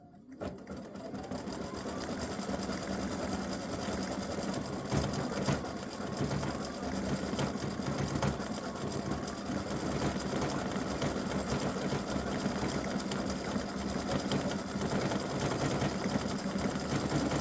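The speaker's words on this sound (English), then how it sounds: "So it's doing the satin stitching around the center of the bow." An embroidery sewing machine satin stitches the center of a bow earring, its needle chattering in a fast, steady rhythm close by for the whole stretch after a brief quieter start.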